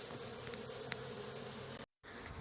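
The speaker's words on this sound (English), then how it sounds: "You can see how the bees are working on the sugar candy" Honey bees buzz steadily around an opened hive where they are feeding on sugar candy, a dense close hum filling the whole stretch with a brief dropout near the end.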